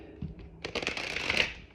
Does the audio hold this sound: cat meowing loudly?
no